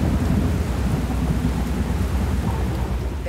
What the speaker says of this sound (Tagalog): Sunod na bumuhos ang malakas na ulan.